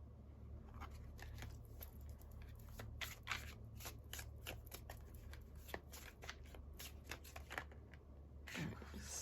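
A tarot card deck is shuffled by hand, a soft continuous riffle of rapid card flicks and slides, quiet and close, running steadily for several seconds.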